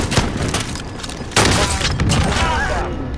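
Loud, dense gunfire and booming blasts from a Call of Duty Warzone Rebirth match, with overlapping shots crowding the whole moment and players' voices partly buried in the noise.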